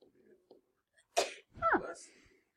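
A single sharp sneeze bursts out in a quiet classroom, with a soft breathy intake before it and a brief vocal tail after.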